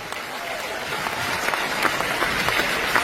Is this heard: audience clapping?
yes